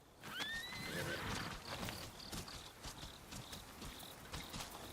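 A horse neighs loudly in the Ghost of Yōtei video game, a rising whinny near the start, followed by soft hoof clops and faint ambient game sounds.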